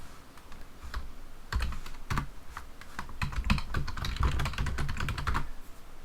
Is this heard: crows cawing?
no